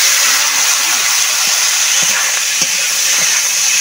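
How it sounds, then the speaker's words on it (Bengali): Potatoes frying in a pan alongside fried fish and onions, giving a loud, steady, bright sizzle with faint stirring knocks underneath and no talk. "দেখো ভাজা হয়ে যাচ্ছে"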